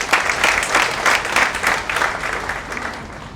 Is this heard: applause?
yes